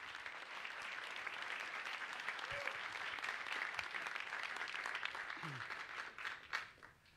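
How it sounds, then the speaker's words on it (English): Steady audience applause fills the room after a NASA Orion flight test panel, a dense, even wash of many hands clapping throughout, with a few faint voices mixed in. "Give a round of applause to..."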